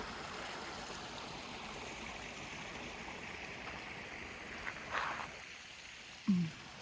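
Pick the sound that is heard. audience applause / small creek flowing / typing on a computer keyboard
small creek flowing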